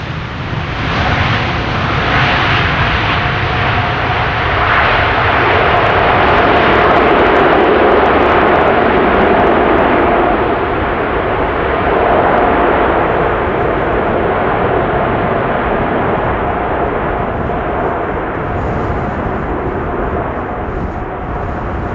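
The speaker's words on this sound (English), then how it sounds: "Now, how loud are the reversers going to be applied?" An airliner lands in gusty wind at Amsterdam Schiphol and applies thrust reversers, producing a loud, sustained engine roar that holds steady for the whole stretch and fades slightly at the end.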